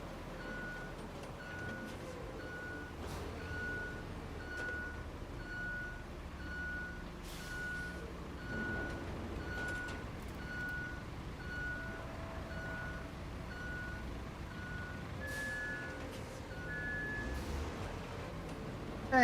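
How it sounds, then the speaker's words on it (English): Reversing beeps from a large truck in the video game Aftermath, a steady evenly spaced electronic tone repeating throughout over a busy engine rumble and game ambience, with a brief higher chirp near the end. "Wide load in reverse"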